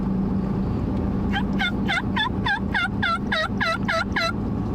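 A turkey call imitating a raspy hen, a rapid series of about ten yelping notes that grow louder, over a steady background rumble.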